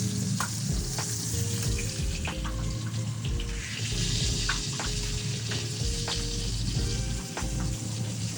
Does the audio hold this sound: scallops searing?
yes